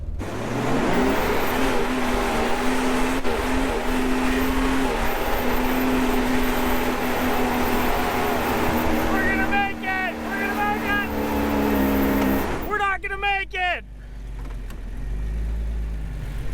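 A car engine drones and strains steadily while trying to climb a soft sand dune, then cuts out near the end, with brief voices over the motor.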